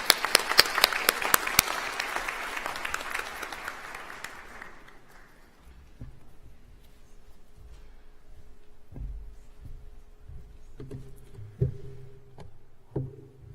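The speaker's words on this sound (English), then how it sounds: "so maybe a bigger round of applause now" A crowd at a university convocation applauds loudly for a few seconds, and the clapping then fades out into quiet hall noise with a few faint knocks and shuffles.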